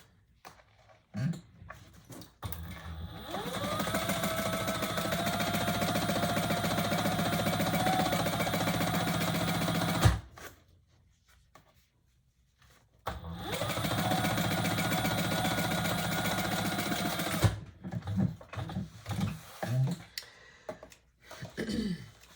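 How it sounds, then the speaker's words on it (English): Sewing machine running a tote bag seam at the seam allowance, two long steady runs of several seconds each, close and fairly loud, with short quiet gaps and light handling noise between them. "we're going to sew that together at the seam allowance in pattern"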